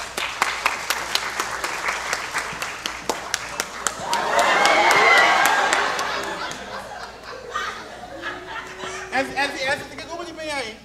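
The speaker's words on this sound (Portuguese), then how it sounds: "Um aplauso para Elsie!" A comedy show audience claps and cheers in a swelling burst of applause, with scattered laughter and a voice talking over the end.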